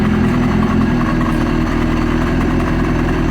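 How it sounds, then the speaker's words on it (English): A 2003 Yamaha RX1 Genesis snowmobile with a 1000cc four-cylinder engine idles with a steady, loud exhaust rumble and fast even pulsing, close by and with no talk. "hear a lot of exhaust noise back here"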